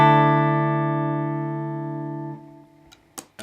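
A clean electric guitar rings out as a single chord that slowly fades over a couple of seconds, followed by faint string and handling noises.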